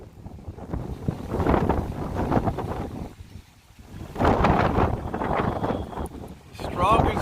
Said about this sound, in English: unbelievably epic wind conditions out here tonight